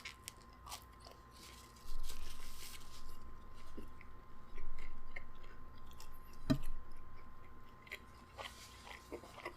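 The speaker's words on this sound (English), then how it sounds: "Let me try this cream cheese bagel here." Someone biting into and chewing a cream cheese bagel close to the mic, with soft crunches and mouth sounds spread unevenly over several seconds, no talking.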